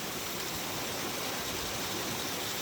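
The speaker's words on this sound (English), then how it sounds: "Look at all that water." Rainwater flows in a stream with a constant broadband rush, steady and fairly close, with no voices over it.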